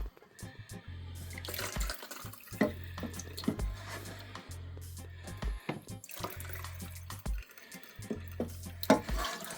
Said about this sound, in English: Now we strain the stock.